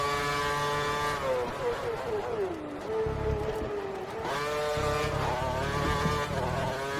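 Formula 1 race car engines at the Indian Grand Prix in a racing video game, a steady high whine rising and falling through gear changes as cars pass nearby, with a voice talking over it.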